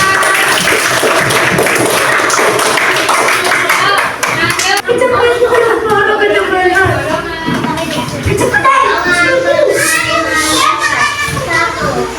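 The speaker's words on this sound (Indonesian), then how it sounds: "Nah, tepuk tangan untuk teman kalian." A children's class claps for classmates. Lively applause and chatter run throughout, with the clapping loud and continuous, a teacher's voice and kids' voices mixed in, and a brief dip in the middle.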